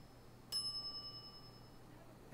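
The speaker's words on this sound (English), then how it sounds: "some idiot's already ringing that stupid bell." A single bright ding from a shop counter bell in the Monkey Island point-and-click game, one clean strike with a ringing tone that fades slowly over a quiet background.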